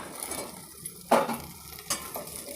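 Cut okra pieces tipped into frying onions in a pan, a sudden clattering rush as they land, then a low sizzle with a spatula knock or two, no voices.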